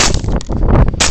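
A single loud, sharp gunshot fired at a wild hog outdoors, close and abrupt, filling the brief moment with a harsh blast and its rough tail.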